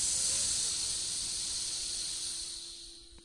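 A narrator's voice imitates a strange hissing sound with a long, breathy, sibilant hiss that starts strong, then fades gradually over about three seconds.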